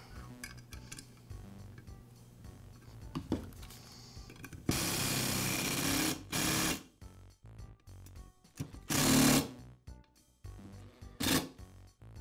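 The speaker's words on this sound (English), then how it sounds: "And for these two, I'll use the impact driver." An impact driver drives screws into a Milwaukee band saw gear case, giving several short, loud bursts of rattling hammering separated by quieter clinks of handling parts nearby.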